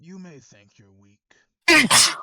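A player at a tabletop role-playing game voices a sudden, loud, sharp sneeze for a caged creature, bursting in right after a stretch of quieter talk.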